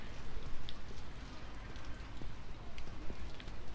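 Rain falls steadily over a football stadium during a Solihull Moors versus Wrexham match, a broad soft hiss with scattered patter and faint crowd and field sounds underneath.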